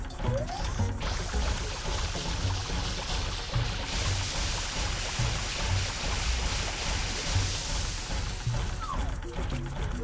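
Water from Mario's spray nozzle hits a chain in Super Mario Sunshine's Pianta Village, Goopy Inferno stage: a steady hissing spray runs under looping game music with a regular thumping beat.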